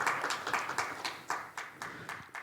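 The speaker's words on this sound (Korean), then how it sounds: "박수 부탁드립니다" An audience at a digital-policy debate session claps to welcome a professor being introduced, a moderate room full of hands with distinct, rhythmic individual claps standing out, fairly distant.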